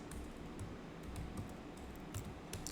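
Commands being typed on a computer keyboard during a pentesting setup, a run of soft, quick key clicks at an even pace against a steady low background hum.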